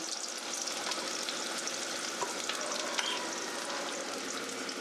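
Two large onions frying in hot Dalda with a little white oil until deep golden, a dense continuous sizzle with faint stirring scrapes, close and steady, no voices.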